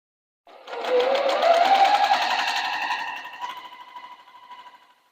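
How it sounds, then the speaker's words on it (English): A sewing machine runs a quarter-inch seam joining quilt border strips, a fast steady mechanical stitching chatter that starts abruptly, holds for a few seconds, then slows and stops, close and alone. "All right, so let me start sewing these. I'm sewing with a 1/4 inch seam."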